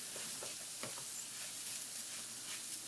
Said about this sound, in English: What we're going to do is we're going to go ahead and add our rice right on top.